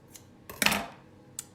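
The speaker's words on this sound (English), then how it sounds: "And then I'll trim the ends." Scissors snip the ends of ribbon on a handmade card: a faint tick, then a crisp close cut, and one more small snip a moment later, in a quiet room.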